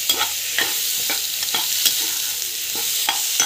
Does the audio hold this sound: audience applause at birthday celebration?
no